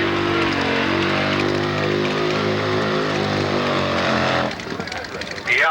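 A single-engine drag bike with a 120 cubic inch 1991 Evolution engine roars loudly and continuously, its pitch climbing as it pulls away. The roar drops off sharply near the end before a brief high whine.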